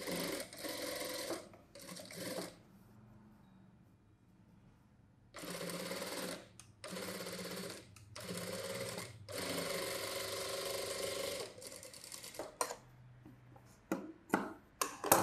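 A sewing machine runs an edge stitch along a saree blouse with the lining folded back, in several bursts of steady close whirring separated by pauses, and a few short taps come near the end.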